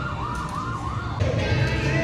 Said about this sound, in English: Uh-oh, I hear sirens.